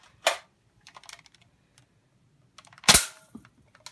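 A Nerf Strongarm blaster fires foam darts: two sharp, close pops a few seconds apart, with light plastic clicks and handling rattles from priming in between.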